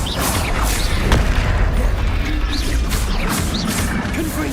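A Confringo spell explosion in the video game Hogwarts Legacy, heard as a dense, loud fiery blast with crackling bursts layered over a sustained rumbling roar.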